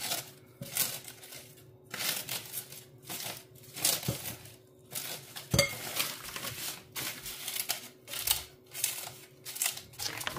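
A knife cuts nori sheets repeatedly on a cutting board, irregular bursts of crisp slicing and soft knocks at close range, with a faint steady hum behind.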